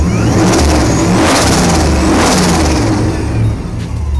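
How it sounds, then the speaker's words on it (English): A Lexus SC400 with a 3UZ V8 and a Vortech B3 supercharger revs loudly and up close, its engine roar and blower whine rising and holding steady throughout, with no talk over it. "now we have our SC400 running with our 3UZ engine and the Vortech B3 SI blower"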